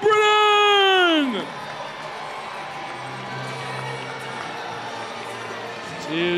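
A full-capacity crowd at a Banana Ball game between the Staten Island FerryHawks and Savannah Bananas roars steadily as a reliever enters to pitch, a broad sustained cheer filling the ballpark, with a voice rising loud at the start.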